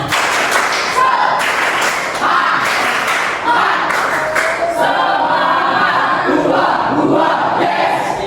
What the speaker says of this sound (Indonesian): Jadi kita tepuk semangat. 1, 2, 3, tepuk semangat.